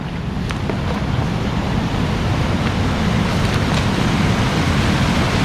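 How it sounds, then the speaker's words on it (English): River water on the South Branch of the Harris River gushing over a steep drop, a loud, steady, broadband roar with no pauses, heard close and alone. "What a drop. And it is gushing for sure."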